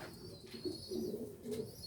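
Blue bar and white pigeons coo in a few soft, low, rounded phrases, fairly quiet and close, with faint background noise and no talking.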